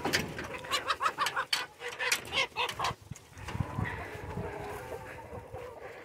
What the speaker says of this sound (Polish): to wam pokażę Sławek tego kurczaka